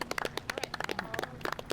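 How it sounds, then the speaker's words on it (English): A small group claps for Miss Frida outdoors in Gary, Indiana, a brief patter of scattered hand claps lasting under two seconds. "clap it up for Miss Frida"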